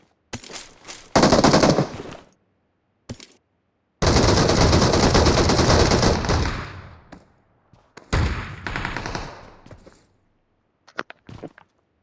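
Bursts of automatic gunfire in the battle royale game BGMI, with long rapid volleys and shorter clusters of shots separated by silences, loud and close.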